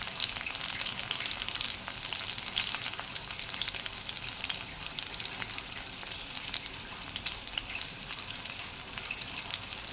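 Onions frying in oil in a pan give a dense, loud, even sizzle that runs unbroken throughout, close by, with faint stirring scrapes and no voices.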